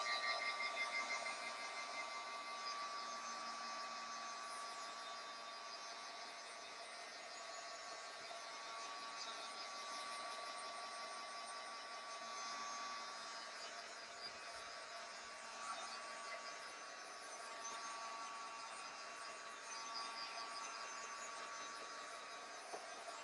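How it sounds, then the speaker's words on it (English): A steady, faint whirring whine from a heat gun used to heat-set mixed media paint on canvas, running evenly throughout without breaks. "let's go ahead and give this a quick heat set. This will dry faster than the gel medium."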